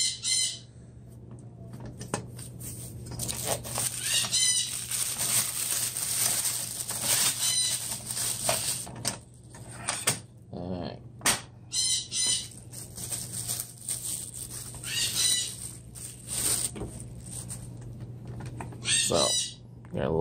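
Pet bird squawking loudly in a home kitchen, with repeated harsh, piercing squawks and bursts of wing flapping scattered irregularly, close to the microphone, with a person speaking at times and a low steady hum underneath.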